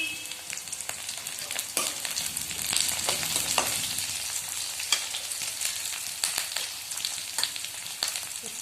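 Onion and two or three dried chilies sizzle steadily in hot oil, with irregular scraping and stirring clicks over a continuous close frying hiss.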